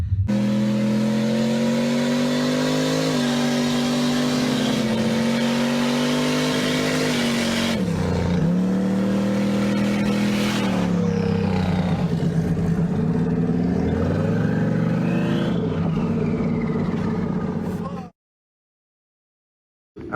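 A turbocharged 5.3L V8 Sierra truck engine runs loudly and steadily, rising and falling as it revs, then cuts off abruptly into silence near the end.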